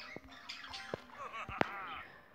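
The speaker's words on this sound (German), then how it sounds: "Im Hintergrund hört ihr sicherlich meine Vögel" Pet birds squawk and chirp faintly in the background, a few scattered short calls with one sharper cry near the end, over a quiet indoor room.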